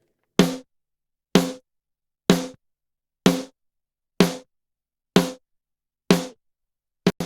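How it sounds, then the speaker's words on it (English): Recorded snare drum with EQ and a gate applied, eight crisp, evenly spaced hits cut off abruptly into dead silence between them, close and dry with nothing else heard. "now we'll hear it with the EQ and gate in"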